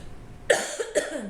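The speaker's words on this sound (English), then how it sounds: "forcing me to cough" Two harsh bronchitis coughs, close and fairly loud, about half a second apart, each trailing off into a brief wheezy rasp.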